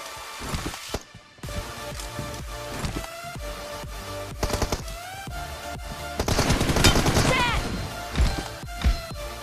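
M416 gunfire in a PUBG Mobile team deathmatch, with bursts of rapid automatic shots and sharp cracks over game music and effects, the firing heaviest near the end.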